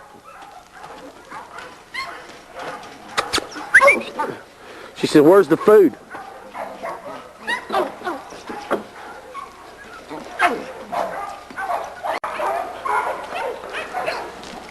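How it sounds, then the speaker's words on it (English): Sweet Pea, a small dog kept on a breeding yard, gives several short yips and whimpering barks in bursts, close by, while people talk over and between them. "this is the little dog we call Sweet Pea."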